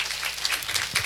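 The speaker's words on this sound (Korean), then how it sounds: "따뜻한 마음으로 박수 드리겠습니다" A church congregation gives a short burst of warm applause during a Sunday service, close, dense clapping filling the brief moment without speech.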